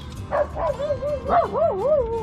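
A dog yips and whines in short, high, wavering bursts, close by, with a low rumble of background noise underneath.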